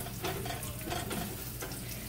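Food sizzles and crackles steadily in a hot pan while browning, a soft continuous frying noise with a few light stirring scrapes, fairly quiet and close.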